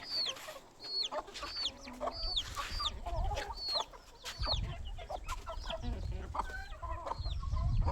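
Hens clucking and squawking on a farm, a busy run of close, repeated clucks and short calls over steady outdoor background noise.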